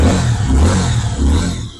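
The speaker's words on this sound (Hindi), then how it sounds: "तो कुछ इस तरीके का इस बाइक का एग्जॉस्ट नोट है।" Suzuki V-Strom SX 250cc motorcycle engine revving, a steady low, bassy exhaust drone that swells and dips slightly before fading, fairly loud and close.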